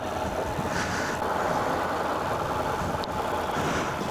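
A 2016 Honda NC750X motorcycle idles in neutral, a steady, close, even engine rumble with no change in pace across the whole stretch, alone without talk.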